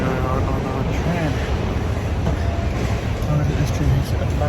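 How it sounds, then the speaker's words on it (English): A New York subway train bound for Atlantic Terminal rumbles along under a loud, steady roar of wheels and carriage noise, with voices faintly audible inside the car. "Here we are on our train."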